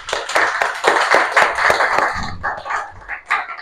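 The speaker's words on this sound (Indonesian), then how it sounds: "Kita berikan tepuk tangan kepada kawan kita yang telah maju tadi." Classmates in a classroom clap for a presenter, a brief burst of several hands clapping close and loud, then fading into scattered claps.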